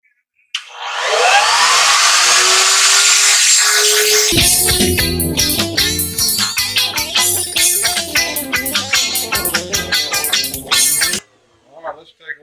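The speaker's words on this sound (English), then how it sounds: "So that's what I'm going to use, a 1/4 inch round over bit, and round off the edges." Router with a 1/4 inch round over bit rounding the edges of an electric guitar body: a loud motor spins up to a high whine, then chatters and rattles roughly as it cuts, and stops abruptly.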